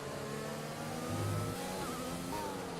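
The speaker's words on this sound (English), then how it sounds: "I can hear another car behind" Racing car engine from a racing video game at Circuit de Barcelona-Catalunya, a steady mid-pitched drone that swells briefly as another car revs behind, continuous throughout with no talk.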